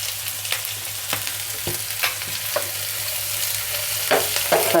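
Finely chopped carrots fry with onions and green chilies in a pan while being stirred, producing a steady sizzle with quick repeated spatula scrapes close up and no talking.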